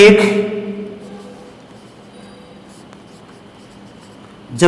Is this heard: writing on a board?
yes